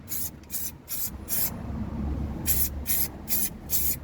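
An aerosol can of rust protection wax sprays in short bursts on a car, a pause, then several more quick hisses, close by, with a low rumbling background.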